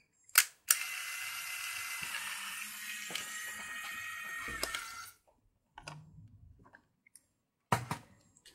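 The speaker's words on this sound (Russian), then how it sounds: "Сейчас мы сделаем фотографию." A Lomo Instant Mini instant camera takes a photo with a sharp shutter click followed by a long whirring hum as the print feeds out, then a few quieter mechanical clicks and handling sounds, with no talk.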